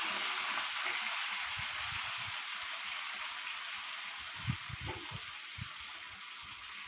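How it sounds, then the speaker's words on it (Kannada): Garlic and ginger fry in hot oil, giving a steady, close sizzling hiss with faint spoon stirring beneath it. "ಬೆಳ್ಳುಳ್ಳಿ ಶುಂಠಿದು ಹಸಿ ವಾಸನೆ ಹೋಗೋ ತನಕ ನಾವು ಚೆನ್ನಾಗಿ ಫ್ರೈ ಮಾಡ್ಕೋಬೇಕು"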